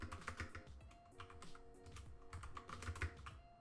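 Quick, light keystrokes on a computer keyboard as a command is typed, a close, quiet run of irregular clicks with no voice over them.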